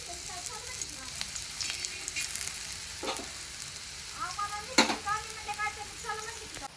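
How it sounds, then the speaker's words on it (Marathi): Potato and fenugreek patties fry in a pan, a soft sizzle under faint speech, with a few sharp clatters and bursts of sputtering. "दोन्ही साईडने ह्याला तळून घ्यायचं आहे"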